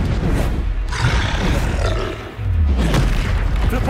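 Booming, roaring bursts of fire spells exploding in Hogwarts Legacy combat, dense and loud, with a brief dip before another rumbling blast.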